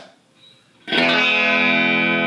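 A loud, distorted electric guitar chord on the bridge pickup, with a Gibson tone circuit, rings out after a brief quiet moment, bright and thin in tone, sustaining steadily.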